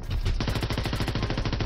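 Rapid automatic gunfire in Call of Duty WW2, a steady fast stream of shots fired in one continuous burst, close and loud with no talking.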